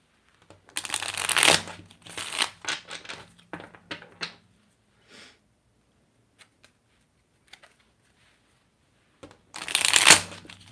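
Tarot cards are shuffled by hand in a few quick riffling bursts, crisp flutters separated by softer taps and shuffles, with a final loud riffle after a quiet pause; no one speaks.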